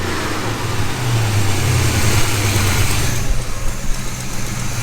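An engine idles steadily and close by, a continuous low rumble with a faint rise in the last second, with no talking over it.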